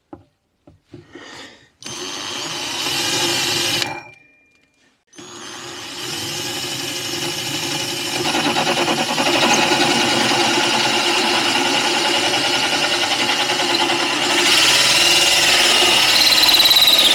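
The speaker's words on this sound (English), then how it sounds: "So all I've got to do is drill there" A power drill bores a hole for an inverter socket inside a CV40 camper van, starting in short bursts, pausing, then running in a long continuous whine that grows louder and harsher as it cuts.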